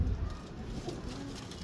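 Low, soft cooing of a pure-breed pigeon close by, a murmuring coo under light background rumble, with no clear talking.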